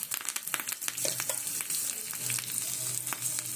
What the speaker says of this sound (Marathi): आता मी तेल गरम करून घेतलं आहे यात थोडी जिरे मोहरी घालायचे